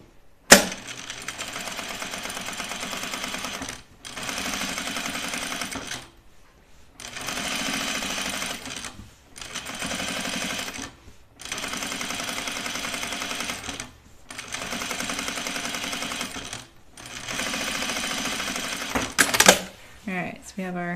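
A sewing machine stitches down the front facing of a duffle coat in repeated bursts of fast whirring, several runs a few seconds long separated by short pauses, loud and close, with brief soft talk between runs.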